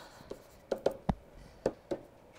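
A pen scratches out rules by hand on paper, a few short quiet strokes and taps in an irregular rhythm, heard close with no talking.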